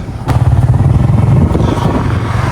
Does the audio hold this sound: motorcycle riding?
yes